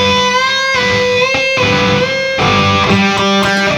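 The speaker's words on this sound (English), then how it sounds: "What you hear is you hear that third string ring out." An electric guitar with a mildly driven tone plays string bends, and an unmuted third string keeps ringing underneath, adding a sustained extra note between the bent pitches. It is close and steady, with no voices.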